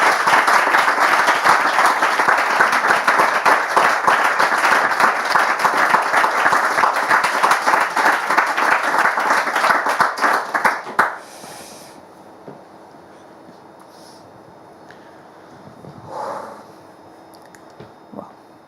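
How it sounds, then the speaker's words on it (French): A television studio audience on a French talk show applauds loudly and steadily for about eleven seconds. The clapping then cuts off, leaving a quiet room with a faint stir. "Je veux quand même qu'on l'applaudisse"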